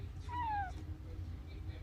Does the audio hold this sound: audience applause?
no